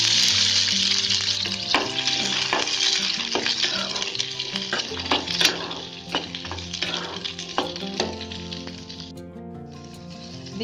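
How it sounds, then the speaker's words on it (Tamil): Small onions fry in hot oil for a Tamil masala kuzhambu, a steady close sizzle with occasional stirring scrapes and clinks running throughout. "வெங்காயம் நல்லா வதங்கிடுச்சு."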